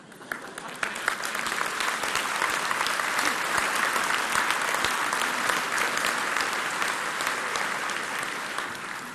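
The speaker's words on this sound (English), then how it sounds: "normal applause at the appropriate time will reduce 17 calories from the meal you recently had" Sustained applause from a seated audience, dense and steady throughout with many overlapping claps, fairly close and moderately loud, no voices on top.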